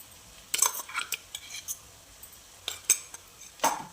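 Ground spice paste is scraped into a cooking onion and tomato mixture for spicy Maharashtrian brinjal bharit, a spoon clinking and tapping against the pan in a few quick, close metallic knocks over a quiet background.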